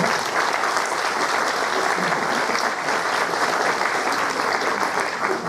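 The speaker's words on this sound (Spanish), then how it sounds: "por favor, un aplauso para ellos" Sustained applause from a seated audience at an anthropology panel discussion, greeting the speakers; steady, dense clapping fills the whole stretch at an even level without breaks.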